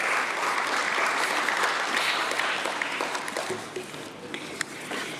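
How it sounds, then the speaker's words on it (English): Loud, sustained applause from an audience at a company's stock listing ceremony, a dense wash of many hands clapping that tapers slightly toward the end with a few sharper claps standing out. "let's have a thunderous round of applause for Deccan Healthcare Limited"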